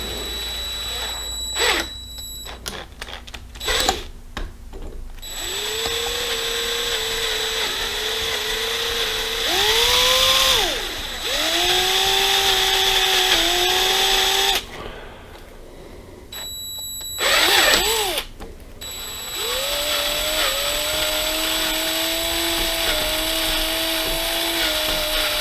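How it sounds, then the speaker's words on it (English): A power drill with a 5/16 bit chamfers the top of a hole in a 1983 BMW R100RS front fork part, whining in several bursts, its pitch rising as each starts and holding steady, with short pauses and clicks between runs. "I'm using a 5/16 bit and just gently drill around the hole to open it up"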